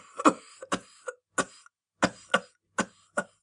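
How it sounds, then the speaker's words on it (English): A man's fit of harsh coughing as he struggles to his feet, a rapid series of about nine loud, close bursts with short gaps, heard alone. "His next words were smothered in a terrible fit of coughing as he struggled to his feet."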